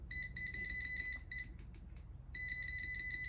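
A UNI-T UT61E+ digital multimeter's continuity buzzer sounds as its probes are shorted: a loud, rapid, high-pitched pulsed beeping up close that stops briefly midway, then resumes.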